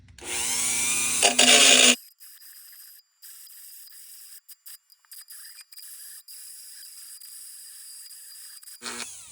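A Dremel rotary tool cutting chrome trim on a wagon, a loud high whining grind for about two seconds, then a long faint high-pitched hum with brief dropouts before the tool bites again at the end.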